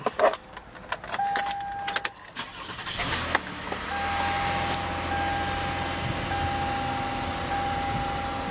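A Buick or GMC car inside a dealership being powered up: keys jangle and clunk at first, then a steady hum comes on with repeated electronic chime tones, all fairly quiet and close.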